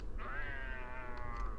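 A cat in the Harry Potter and the Philosopher's Stone video game gives one drawn-out, wavering meow lasting over a second above a low rumbling background.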